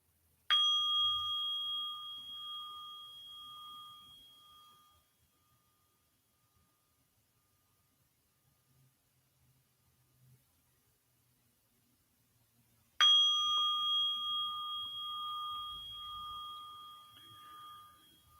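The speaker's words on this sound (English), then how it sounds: "following each breath through these two sounds of the bell" A meditation bell rung twice, each strike a clear, loud ringing tone that slowly fades, separated by a long stretch of near silence.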